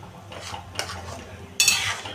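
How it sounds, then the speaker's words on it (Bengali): Spoon stirring a pot of potato and pointed gourd curry with a little water just added, soft wet scrapes and a couple of brighter utensil knocks against the pan in a short close burst, no talking. "এবার এটাকে আমি ভালো করে মিশিয়ে নিচ্ছি।"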